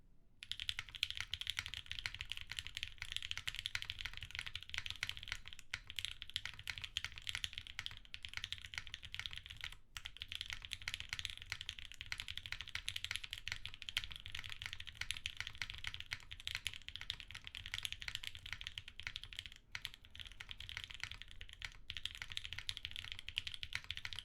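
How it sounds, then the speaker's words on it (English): A mechanical keyboard with Gateron Chocolate Smoothie switches, an aluminum case and GMK Abstract keycaps is typed on steadily and quickly, a close, dense stream of keystrokes that runs without pause and with no voices. "let's do the typing test for this Oblique"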